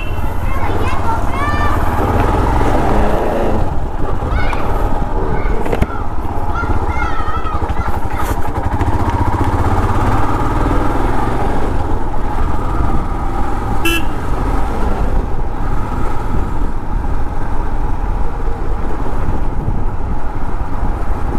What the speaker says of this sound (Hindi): ये हो गई है अपनी गाड़ी स्टार्ट